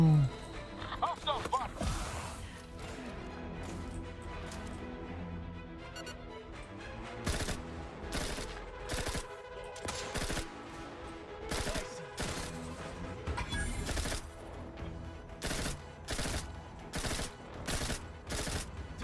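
Rapid bursts of gunfire in the Outer Worlds 2 video game, loud volleys and short strings of shots repeating in clusters over most of the stretch, with a voice talking underneath.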